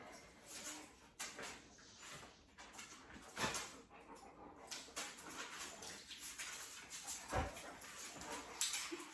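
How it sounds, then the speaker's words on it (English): Dogs eager to play whimper and give short yips and barks at moderate distance, scattered irregularly through steady background noise with occasional thumps, and no talking. "my dogs are wanting to play right now"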